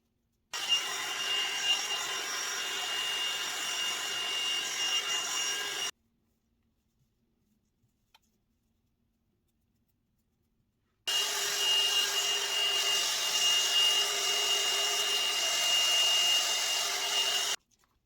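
Loud, steady whoosh of a hair dryer blow drying thin, fine hair, running for several seconds, then switched off for a quiet gap with a faint tap before roaring back on.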